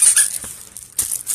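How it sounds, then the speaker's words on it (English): A squeaky frog dog toy is squeezed repeatedly by a playful puppy, giving a string of sharp, loud, high squeaks in quick irregular bursts close by. "Squeak your froggy."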